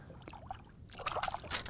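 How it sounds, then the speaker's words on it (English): A five-pound bass is let go back into a lake, giving a short burst of splashing and sloshing water close by after a brief quiet moment. "Get her back in the water."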